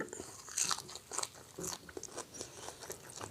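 Someone biting into and chewing salmon laab, a minced fish dish, close up: crisp crunches and wet chewing in an uneven rhythm, with no talking.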